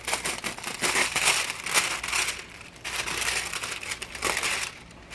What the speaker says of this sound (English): Let me take the cover off.